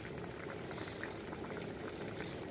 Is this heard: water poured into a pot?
yes